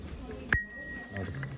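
A bicycle bell for a sports bike, bought at a Daiso shop in Korea, rings once with a bright metallic ding that decays slowly, followed by faint background noise.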